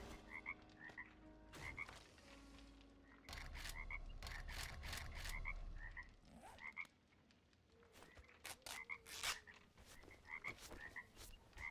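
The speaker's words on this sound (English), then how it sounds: "The froggies!" Frogs croak in 7 Days to Die (PC, Wild West Mod), with repeated short croaks and chirps scattered across a rumbling ambient background, some louder bursts close by.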